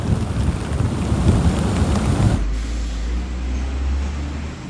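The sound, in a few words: strong wind blowing on a bridge by the sea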